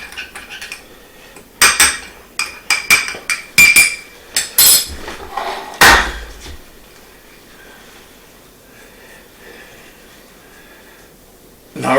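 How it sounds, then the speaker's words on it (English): A ginger spice rub for hanger steak is stirred in a bowl, with a quick series of sharp metal-on-bowl clinks and scrapes, then a quiet pause. "So we'll go ahead and mix this up."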